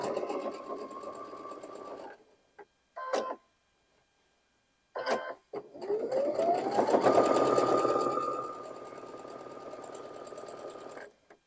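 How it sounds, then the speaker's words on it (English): A sewing machine stitches pieces of a combination star quilt block in bursts, with short pauses and an accelerating run near the middle, then a steady whirring stretch at the end. "And lift, rotate, sew back down the other side."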